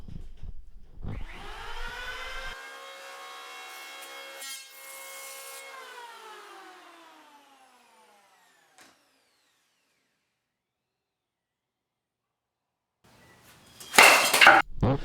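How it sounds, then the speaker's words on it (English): An electric hand planer shapes the side of a foam surfboard with a wooden stringer, a loud rising whine that runs for several seconds and winds down, then a harsh, noisy burst of chipping and rasping near the end, all close up. "here's me still using the planner right now on the side of the surfboard"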